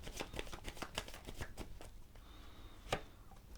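Tarot cards shuffled by hand in a quick run of crisp riffles and slaps over about two seconds, then quieter handling with a single sharp snap near the end.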